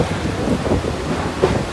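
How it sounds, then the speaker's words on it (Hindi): Heavy rain roars steadily during a Mumbai local train ride, a dense, close wash of noise with low rumbling underneath, unbroken for a short moment. "बारिश बहुत तेज है।"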